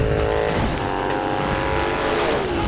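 Indian motorcycle slowly gaining speed in a film scene, a loud continuous engine whine with rising harmonic tones and a dense mechanical roar.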